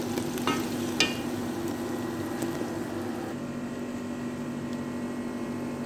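Meat and onions in tomato sauce cook in a pan, a continuous sizzle with spoon-stirring scrapes and a couple of sharp clinks near the start, close and steady.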